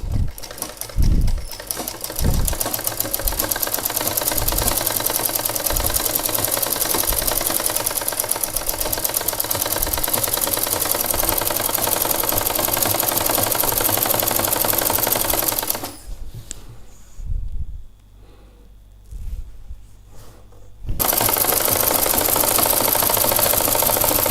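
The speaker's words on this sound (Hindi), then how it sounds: "अब इसको अंदर की ओर लटका के सीधे गोट की बखिया, गोट की सिलाई स्टार्ट कर देता हूँ।" A sewing machine stitches the hem of a petticoat with a loud, rapid mechanical rattle, running continuously apart from a pause of a few seconds near the end with soft handling sounds, then resuming; no one talks.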